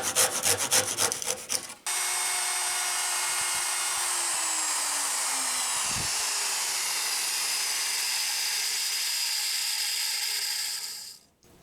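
A wooden dowel's excess is cut flush while building a sewing machine table: a few quick rasping strokes, then a loud, steady high-pitched power-tool whine with a dipping tone that stops abruptly at the end.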